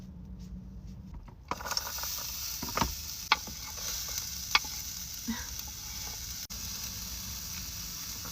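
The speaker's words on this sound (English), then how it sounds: "I'm going to heat up the tortillas" Tortillas warming in a small pan in a makeshift car kitchen give a steady, close sizzle. A few sharp clicks and clatters from handling cut through it, and nobody speaks.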